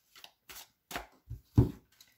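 Tarot cards being shuffled and drawn, a handful of separate soft flicks and slaps spaced unevenly, close and quiet against silence.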